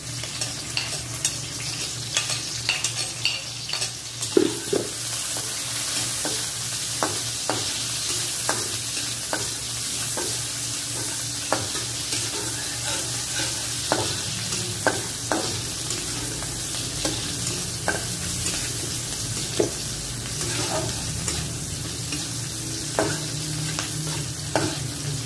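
Garlic and onion sauté in a pan for a pork-and-ampalaya guisado, a steady sizzle of frying broken by repeated scraping and stirring strokes of a utensil, close and fairly loud with no talking.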